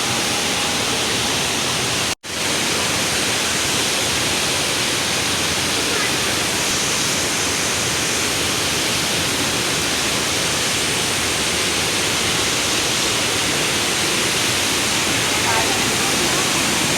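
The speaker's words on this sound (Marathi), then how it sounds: "सो इथे हा आहे हा धबधबा" A waterfall in Rajapur, Konkan roars close by as a loud, unbroken wash of rushing water that holds steady throughout, cut off only by one brief dropout early on.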